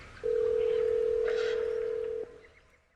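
A single steady telephone tone sounds for about two seconds, loud and close, then cuts off and goes unanswered, with faint background noise around it.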